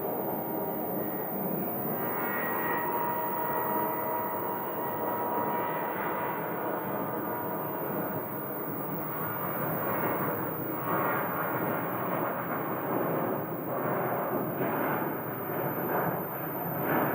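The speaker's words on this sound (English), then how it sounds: "Southwest departing." A Southwest Airlines passenger jet departs Phoenix airport, a steady broad engine roar holding at a constant loud level throughout with no talk over it.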